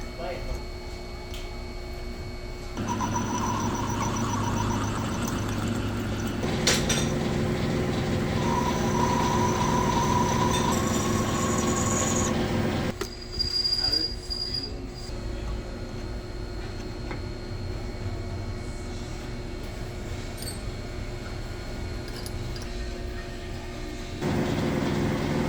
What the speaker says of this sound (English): So I'm going to machine this piece of aluminum